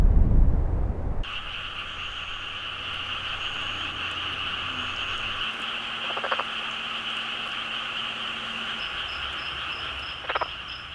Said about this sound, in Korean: 구애에 나선 개구리들.